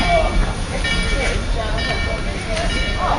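Durango and Silverton narrow-gauge train 482 pulling away, a steady rumble with hissing steam and faint squeals, heard from close by while people talk nearby.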